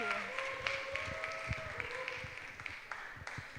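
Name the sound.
audience applause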